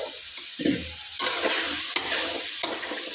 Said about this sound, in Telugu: ముందుగా తరిగి పెట్టిన సోరకాయ అయితే వేసేస్తా అయితే స్టవ్ అయితే చిన్నగా పెట్టుకొని చేసుకోవాలి